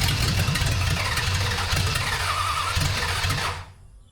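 A 1974 Dodge Dart Swinger small block engine cranks loud and close, a steady rough churning drone that cuts off abruptly near the end.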